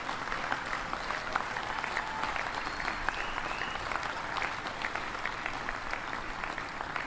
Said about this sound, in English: Would you mind giving all the Hoosiers who are here a big, big round of applause